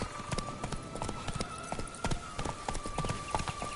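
Roach the horse trotting in The Witcher 3, a quick, steady clip-clop of hooves at close range that continues throughout.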